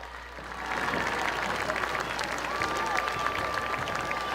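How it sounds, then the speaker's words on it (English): A stadium crowd applauds the class of 2026 Marching Grizzlies band at a high school varsity football game, with broad, steady clapping and cheering that swells after a quiet start and holds loud to the end. "let's have one more big round of applause for our class of 2026 Marching"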